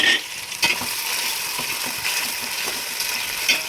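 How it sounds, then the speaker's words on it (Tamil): Onions with rock salt sizzle in a pan as a spoon stirs them, giving a bright continuous frying hiss with repeated scraping strokes close up. "அந்த வெங்காயம் கிளறணும்."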